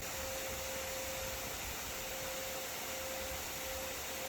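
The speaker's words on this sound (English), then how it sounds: "if they don't get sucked up by the nozzle, the vacuum at that point, they will get sucked up when they come back" A vacuum drones steadily and loudly outdoors at a yellow jacket ground nest, its nozzle sucking up the wasps, with a constant whine and rushing air and no pauses.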